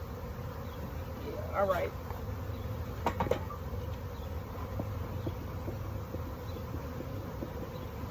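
Honey bees buzz in a steady, close drone throughout a hive inspection, while a person speaks briefly over the hum.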